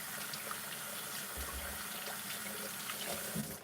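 Water runs steadily from a kitchen tap as a baking utensil is rinsed under it, a soft, constant splashing stream heard fairly faintly with a brief clatter at the end.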